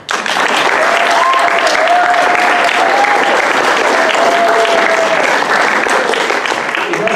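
An audience at a student performance night applauds the performers with dense, loud, sustained clapping that runs steadily from start to finish, while a faint voice rises briefly above it.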